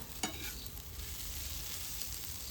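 Green chillies roast on a hot tava over a wood-fired stove, giving a soft, continuous hiss and crackle that opens with one sharper pop and then stays fairly faint and even.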